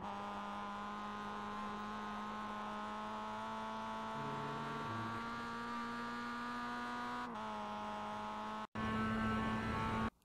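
A Mazda MX-5 race car engine in iRacing at Oulton Park's Fosters circuit holds a steady, close droning hum whose pitch dips twice, around the four- and seven-second marks, then returns louder near the end after a brief cutout.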